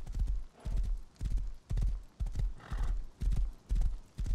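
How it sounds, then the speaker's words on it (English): A horse in the video game Rust clip-clops in a steady walking rhythm of paired hoof thuds, about two per second, with a whinny rising partway through; no one speaks over it. "Hold my horse and watch this."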